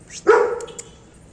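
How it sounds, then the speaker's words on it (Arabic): A young dog about eleven months old gives one loud, close bark, cut short, followed by a faint trailing yip over a quiet background. "حتى لو انتم شايفين نبحة صوته لسه عيل صغير"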